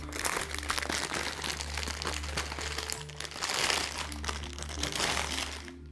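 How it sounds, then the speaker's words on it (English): Brown, off-white, white and greenery decorative filler pieces tumble and crinkle as they are dumped out for a dining room centerpiece, a steady close rustling clatter that swells midway and continues for several seconds without talk. "Dump out the pieces."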